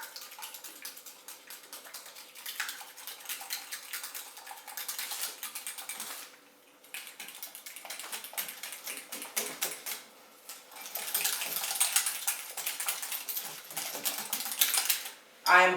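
Wet ingredients for Irish soda bread are stirred together in a bowl, giving quiet, rapid scraping and sloshing ticks in uneven bursts, with a short pause midway and a louder clunk at the end.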